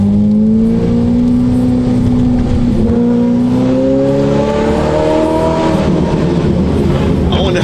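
A modified Ferrari F8 Tributo with an aftermarket exhaust and tune revs loudly up close, its engine note climbing in steady rising sweeps, with voices talking over it throughout.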